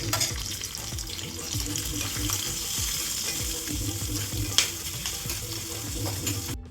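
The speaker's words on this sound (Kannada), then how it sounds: "ಎಣ್ಣೆ ಕಾದಿದೆ. ಈಗ ಮೆಣಸಿನಕಾಯಿ ಹಾಕೋತಾ ಇದ್ದೀನಿ." Steady sizzling of chillies and coconut pieces frying in hot oil for tempering, a continuous crackling hiss with faint clinks, no voices.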